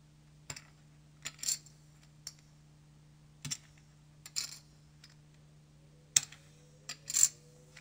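Small clusters of light clay-like clicks, poker chips clattering together as they are shuffled by hand in brief bursts separated by quiet pauses, close and soft.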